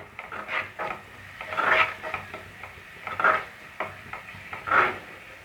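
Curd being stirred into a thick tomato masala in a pan, giving soft wet scraping and occasional clinks of the spoon in uneven strokes, close and fairly quiet with no talk.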